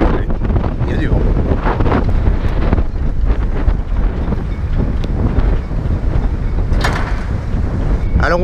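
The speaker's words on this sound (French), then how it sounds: "Il y a du vent aujourd'hui." Strong wind blows across a marina pontoon among moored sailboats on the Mediterranean, a loud, continuous buffeting roar with gusts hitting the microphone, and faint speech mixed in.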